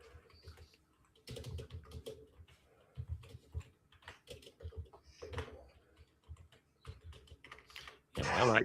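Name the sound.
typing on a computer keyboard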